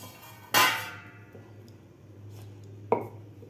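A knife cuts homemade mango leather (amba poli) into pieces on a wooden rolling board, giving two sharp, separate chopping knocks with quiet pauses around them.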